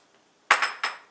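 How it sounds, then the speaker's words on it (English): Dry fusilli pasta drops into a pot of boiling water, producing a few quick, close clattering impacts in rapid succession, with nothing else around them. "let me just grab these fusilli right here, drop it in this boiling water"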